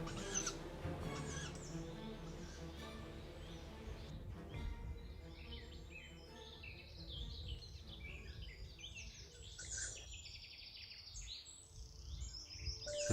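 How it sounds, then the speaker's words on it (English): Young owlets beg persistently with faint, high rasping and chirping calls repeated over and over, set against a hazy, muffled outdoor background. "Both owlets were constantly begging"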